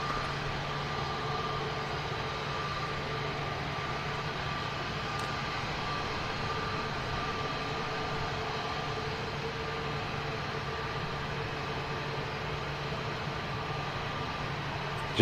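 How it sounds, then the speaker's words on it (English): An Emirates A380 landing and taxiing at Manchester Airport, a steady distant engine drone with a low continuous hum, unbroken and fairly faint, with no talk. "Emirates A380 Flight 17 coming into Manchester Airport from Dubai."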